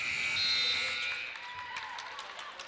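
A basketball shot clock buzzer sounds loudly at the close of 24 seconds during an OCAA women's game between Fanshawe and St. Clair, a brief harsh tone over gym crowd noise that fades into chatter and squeaks.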